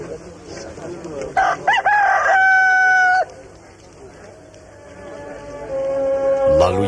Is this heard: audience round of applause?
no